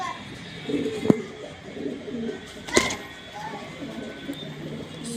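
Pigeons coo softly in soft repeated murmuring calls at moderate distance, with a couple of sharp brief clicks or knocks breaking in and faint background noise throughout.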